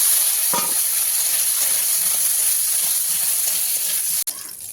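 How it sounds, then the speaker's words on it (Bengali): Potatoes frying in hot oil in a wok, a steady loud sizzling hiss that runs without pause and cuts off sharply near the end. "এই তেলে আলুগুলো ভেজে নেব"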